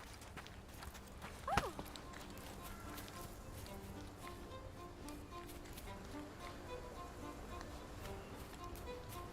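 Faint, steady clip-clop of horse hooves in a Sherlock Holmes video game, a quiet rhythmic patter through most of the clip with a brief louder sound early on.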